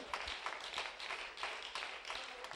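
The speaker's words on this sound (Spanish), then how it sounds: "¿Cuántos le damos un aplauso al Señor?" A church congregation breaks into applause for the Lord during a sermon, a faint, brisk patter of many hands clapping in uneven bursts.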